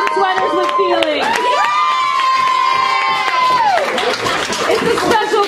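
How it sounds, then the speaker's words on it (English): A crowd cheers and whoops loudly, with shouting voices and scattered clapping blending into an excited, continuous roar close by. "Why don't we clap again for Boys in Sweaters with Feeling?"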